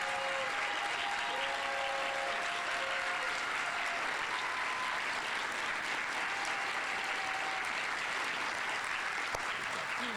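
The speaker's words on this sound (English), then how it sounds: "I want to get a picture of them with all of you standing and applauding them." A standing audience applauds educators at an awards ceremony, a loud, continuous wall of clapping with a faint voice and a few tonal sounds underneath.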